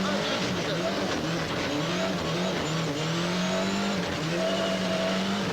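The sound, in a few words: Ford Escort rally car on a stage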